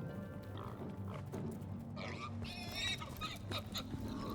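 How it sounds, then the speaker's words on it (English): Pigs grunt and oink in the video game Divinity Original Sin, snorting faintly over a low ambient background, with a few squeal-like calls in the middle. "And a bunch of pigs."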